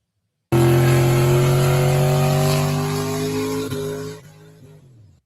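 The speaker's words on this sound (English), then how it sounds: "here's the challenge of burnouts for distance" A car doing a burnout for distance, its engine screaming at sustained high revs with strong harmonics that sag slightly and fade near the end, loud and without voices.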